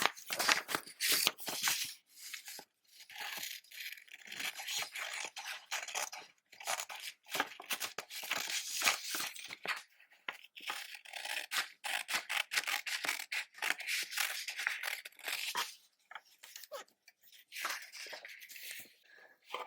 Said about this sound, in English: to begin with, you want to cut out the outline of your template here